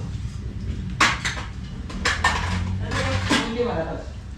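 Aamras being served into metal thali dishes, a few close, loud clanks and clinks of utensils against the plates over a murmur of background voices.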